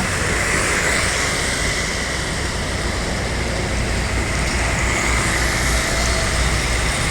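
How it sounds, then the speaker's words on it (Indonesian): A Gumarang Jaya intercity bus pulls in at a roadside stop at night, its engine and road noise forming a loud, steady rumble with broad hiss that holds for the whole stretch, with no voices. "Gumarang Jaya menuju kelas, bus pertama yang masuk"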